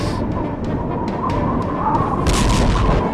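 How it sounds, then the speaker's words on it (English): Simulated constant sonic booms on a scorching alien world, heard as a continuous loud rumbling roar with repeated sharp booming cracks roughly every half second, swelling heavier toward the end. "Now multiply that by 7, and you get constant sonic booms occurring every second."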